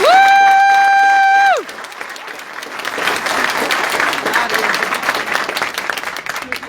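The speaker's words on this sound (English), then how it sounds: "Let's give Cassidy a big round of applause." A sustained electronic tone sounds for over a second and cuts off, then a school board meeting audience breaks into broad applause for a JROTC precision air rifle champion, a full crowd clapping with scattered cheers.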